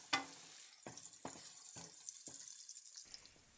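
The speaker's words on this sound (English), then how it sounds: "I'll throw in the shallots and garlic and give those about a minute to fry" Shallots and garlic fry in oil in a pan, a soft continuous sizzle broken by several short scraping stirs at a steady rhythm, close and fairly quiet, with no voices.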